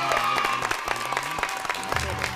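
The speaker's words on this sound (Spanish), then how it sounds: "podríamos darle un aplauso nosotros a nuestro querido público" Studio audience of a Chilean television variety show claps together in a dense, steady burst of applause, close and moderately loud, with a brief voice over the clapping toward the end.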